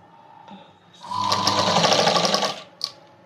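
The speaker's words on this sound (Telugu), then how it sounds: "ఇలా జాయింట్ చేస్తూ అన్ని స్టిచ్ చేసేసుకోవాలి." A sewing machine stitches thread piping. It starts with a couple of soft ticks, then runs in a loud, steady, close whir for about a second and a half before stopping with a small click.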